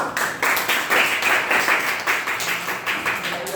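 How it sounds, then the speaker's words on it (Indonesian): A classroom group claps for a student group after their presentation. The claps are irregular and fairly close, from several pairs of hands, with no talk over them. "Tepuk tangan dulu."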